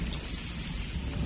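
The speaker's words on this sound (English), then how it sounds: "we're transitioning to Dagobah. where it's raining and storming" Steady heavy rain with rumbling thunder, a dense continuous storm wash from the Dagobah scene of The Empire Strikes Back soundtrack, loud and even throughout with no voices.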